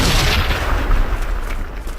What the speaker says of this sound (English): And that was the chain IED explosion.